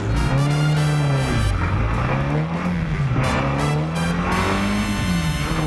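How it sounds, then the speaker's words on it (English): Race cars at the Chateau Impney hillclimb roar up a narrow course through the grounds, one engine loud and close, revving and shifting with rising and falling pitch, alone without talk. "The cars do timed runs up a challenging course through the picturesque grounds"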